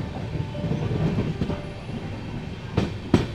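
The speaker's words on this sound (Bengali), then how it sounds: "নির্ধারিত সময় থেকে 1 ঘন্টা 30 মিনিট লেটে আমাদের ট্রেন চলে আসলো হাসিমারা স্টেশনে" The Kanchankanya Express rolls into Hasimara station with a rumbling clatter of carriages, wheels clicking over rail joints and a couple of sharp clanks near the end, fairly close and steady.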